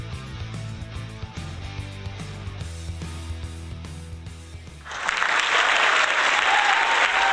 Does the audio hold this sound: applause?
yes